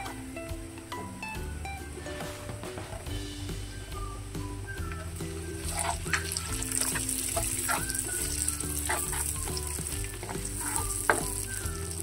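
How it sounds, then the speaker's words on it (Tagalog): Onions sizzling in hot oil and butter with a little garlic, a steady close frying hiss that holds through with faint stirring and scraping. "At this point, ay pwede na nating ilagay ang ating onions."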